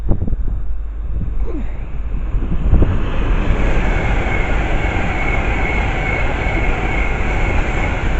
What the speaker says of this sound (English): The final will be the Pendo, which is the Pendolino first, working the service from London Euston to Liverpool Lime Street.